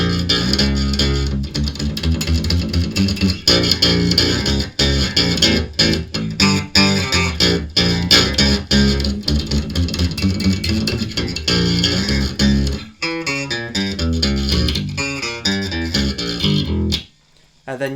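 Heavy, distorted electric guitar power chords from a song, played rhythmically and loud, with short chugging palm-muted stabs and a sudden cutoff near the end.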